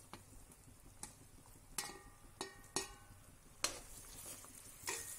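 A spoon stirs karonda berries through sticky jaggery syrup in a pan, producing faint, irregular metallic clinks and scrapes over a soft low sizzle, with no voices.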